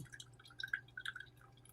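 The last drops of cream of chicken soup liquid dripping out while baked turkey wings are prepared: a faint, irregular patter of small, quiet drips, with no voices.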